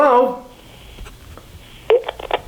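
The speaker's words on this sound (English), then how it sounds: "And it's pretty easy to see that the phone's ringing." Telephone ring tones in a short dialogue scene: a brief electronic ring chirps at the start, then a few quick tonal beeps follow after a pause, with a voice speaking at the start.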